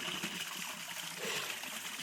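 A creek flows steadily at a good rate with a constant, dense rushing and trickling sound. The water is close and fairly loud and runs on without a break.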